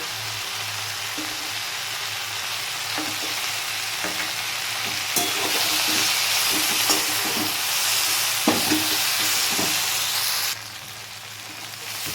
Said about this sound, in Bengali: এবার আমি এর মধ্যে দিয়ে দেব এই যে তিল বাটা তিল বাটাটা দিয়ে আমি ভালো করে নেড়ে চেড়ে নেব